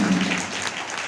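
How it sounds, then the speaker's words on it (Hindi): An audience at an Indian dance event claps, a brief burst of dense, fairly loud applause that fades slightly toward the end. "और आप अपने लोगों के लिए एक बार जोरदार ताली बनाएंगे।"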